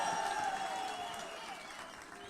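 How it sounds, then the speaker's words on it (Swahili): An audience at a political gathering applauds in a faint, distant wash of clapping that slowly fades, with a murmur of crowd voices mixed in. "wapi makofi ya Murega?"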